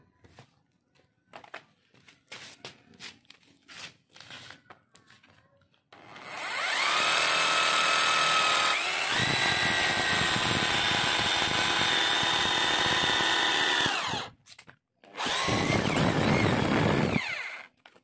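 Ryu RRH26 rotary hammer drilling into hardened cement, loud close motor whine with hammering grind running steadily for several seconds, briefly stopping, then starting again, after a stretch of scattered handling knocks.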